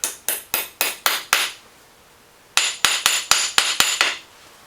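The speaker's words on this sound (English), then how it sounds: "Little hammer." A small hammer taps a steel taper pin into a knee joint on a Kearney & Trecker milling machine, two bursts of sharp metallic strikes, six then seven blows in a quick steady rhythm, close and clear with a short pause between.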